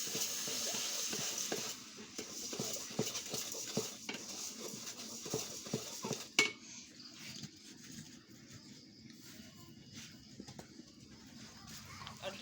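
Soaked pulao rice is stir-fried in a pan over a clay stove, a steady sizzle with repeated scraping strokes of the spoon, one sharp clank midway, then a quieter crackle.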